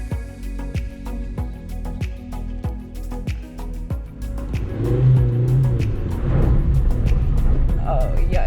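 A car drives through a volcanic Azores island landscape, engine rumbling steadily with rhythmic thumps, then revving louder and rougher toward the end as it accelerates; voices talk over it.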